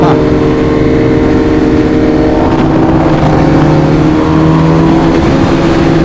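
Kawasaki H2R motorcycle with its four-cylinder engine cruising on the road, a loud, close, steady engine drone with a constant hum and wind rush and no break for its full length.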